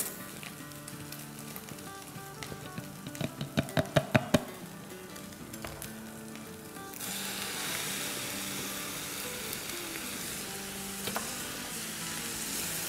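Minced meat browns quietly in a pan, with a run of light taps and knocks, then tomato puree is poured in and sets off a sudden loud, steady sizzle that continues to the end.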